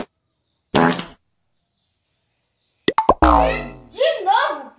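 A comedic fart sound effect, two short bursts with a pause between them, loud and close, with an exaggerated bubbly tail on the second, broken up by playful speech in Portuguese.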